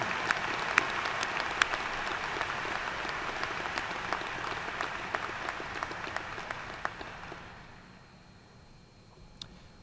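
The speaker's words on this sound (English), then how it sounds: "Let's give them all a big round of applause." Sustained applause from a graduation ceremony audience, a steady crowd of clapping that holds for several seconds, then thins out and fades near the end.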